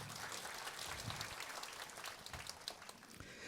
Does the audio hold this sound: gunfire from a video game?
no